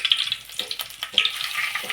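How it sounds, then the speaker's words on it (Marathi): Cumin seeds and curry leaves crackle in very hot oil, a close, steady sizzle with sharp spitting pops scattered throughout and no voices. "तेल चांगलं कडकडीत गरम झालं, जिरे घ्यायचे टाकून, त्यात टाकायची कढीपत्त्याची पानं"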